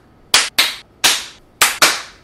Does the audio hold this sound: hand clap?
yes